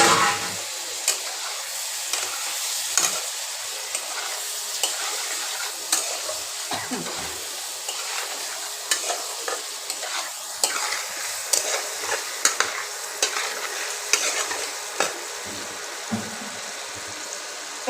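Boiled eggs and potatoes frying and being stirred in a wok for a Bengali egg curry, with a steady close sizzle and repeated scraping clicks of a utensil throughout, no voices.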